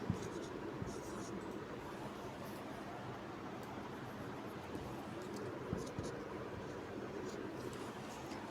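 Pen scratching out genetics notes, a steady close scribbling texture that continues for several seconds with a few small taps and strokes and no voice over it.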